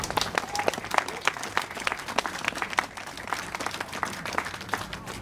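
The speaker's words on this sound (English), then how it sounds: "Another round of applause." Audience applause at an outdoor street-naming unveiling ceremony on Myrtle Avenue in Brooklyn, a steady mid-sized crowd clapping continuously for several seconds at moderate volume.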